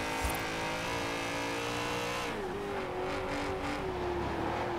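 BMW car engine in Forza Horizon 4 straining in third gear, a steady droning rev that shifts and dips partway through before settling into a lower climbing tone, close and continuous with no talking.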